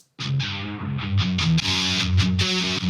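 Layered Electric Sunburst electric guitars from Kontakt drive an EDM/rock drop, playing loud, distorted, chugging chords in a steady rhythm, with the tone brightening as a filter opens and closes, and no voices.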